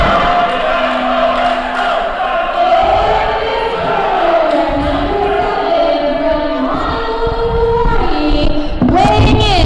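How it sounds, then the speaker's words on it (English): A large, loud crowd at a wrestling tournament cheering and chanting continuously, voices swelling and overlapping in a big echoing hall, with shouts rising near the end. "It certainly is an enthusiastic crowd."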